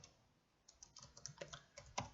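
Close, irregular keystrokes on a computer keyboard as commands are typed into Stata statistics software, soft taps with no talking.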